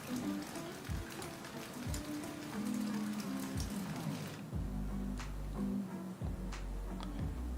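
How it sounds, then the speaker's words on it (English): Rain falls steadily onto a surface, a constant soft hiss with scattered drops tapping, joined by repeated low thumps and rumbling in the background. "And it's raining."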